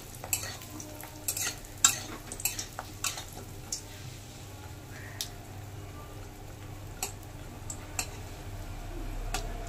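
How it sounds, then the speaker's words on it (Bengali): Urad dal badi frying in mustard oil, a low steady sizzle with repeated scraping and clinking of a stirring spoon against the pan, close and moderately loud. "বড়িটাকে আমি সুন্দর করে লালচে করে ভেজে নেব।"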